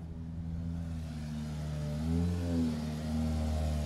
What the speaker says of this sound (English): Guys, we're going to get run over by a Toyota.